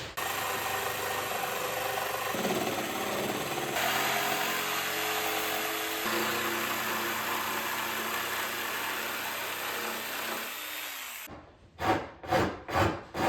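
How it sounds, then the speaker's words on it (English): A saw trims the ends of wooden boards for rustic candle holders, a steady close rasping that runs for about eleven seconds, followed by a few sharp, rhythmic strokes at the end. "I'll trim the ends to different lengths so that it enforces that illusion."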